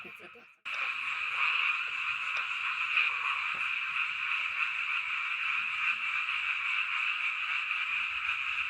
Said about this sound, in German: das sind diese riesengroßen Grillen, die hier sind, die solche Geräusche machen